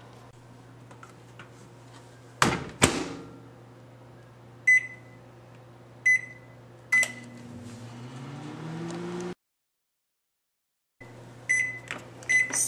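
A microwave oven hums steadily as it heats marshmallows, with a loud clunk near the start, several short electronic beeps, a falling whir as it winds down, a moment of silence, then more beeps.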